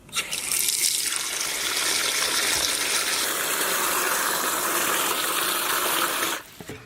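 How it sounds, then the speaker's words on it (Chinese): Water runs and gushes steadily into a basin while grated potato starch is rinsed by hand, a continuous close splashing wash that stops abruptly at the end. "炖了这么多芡，把芡再洗一下"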